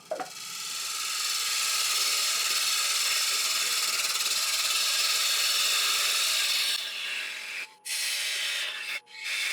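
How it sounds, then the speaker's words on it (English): Steady, loud continuous whirr and scraping of a lathe parting off a turned elm workpiece, with the tool cutting without a break for several seconds before two brief dips as the cut ends. "So now next job guys, get this parted off."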